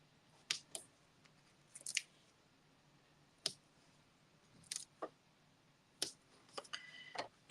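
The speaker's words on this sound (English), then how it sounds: "cut around the label to make this one square" Scissors snip around a paper label in a papercraft workshop, giving several short, crisp cutting clicks with pauses between them, close and fairly quiet, with no talking.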